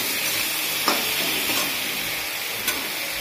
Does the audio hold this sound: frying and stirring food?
yes